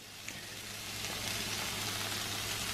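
Food fries in lard for a Southern breakfast, a soft, even sizzle that builds slightly and holds steady, up close with no talking.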